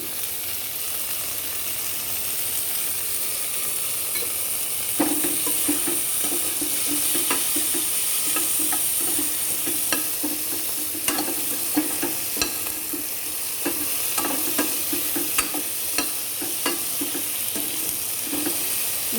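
Tomatoes frying in a pan for sambar, with a steady hissing sizzle throughout and a spoon scraping and clinking in irregular strokes over it, close and without talk.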